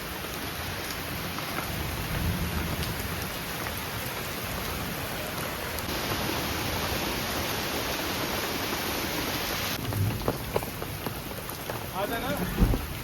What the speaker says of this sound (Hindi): अगर ये बारिश ऐसी होती रही तो